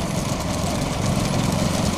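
An Uzhavan tractor's engine runs with a steady, rough mid-pitched drone at a rural bull-cart race, heard continuously and fairly close without any talk.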